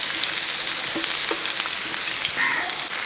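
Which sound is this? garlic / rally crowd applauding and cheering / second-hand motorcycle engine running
garlic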